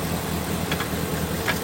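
A car engine idles steadily just after starting, following an aftermarket starter swap, with a continuous low rumble and a couple of faint higher clicks over it.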